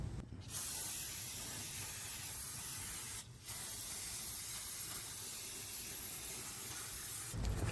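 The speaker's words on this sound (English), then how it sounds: "put that on after you clean it off with some brake clean" Aerosol can of brake cleaner sprayed in one long continuous hissing burst with a brief pause near three seconds, close and steady, while servicing rear brake pads on a 2009 Ford Expedition XLT.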